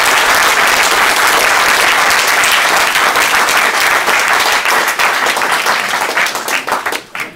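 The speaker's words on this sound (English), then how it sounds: "so give him a big round of applause" Loud, dense applause from a Game Developers Conference audience, continuous for several seconds before thinning into scattered claps and fading out.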